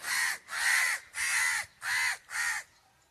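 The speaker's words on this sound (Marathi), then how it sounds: "अरे बघा असे कावळे बसलेलेच आहेत" Five loud, raspy crow caws in quick succession, nearby and clear, then a brief quiet at the end.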